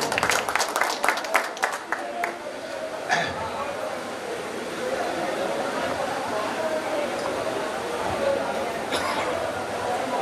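An audience at a pigeon association prize ceremony bursts into loud, crowded applause that begins with sharp claps and settles into steady sustained clapping with murmuring voices underneath.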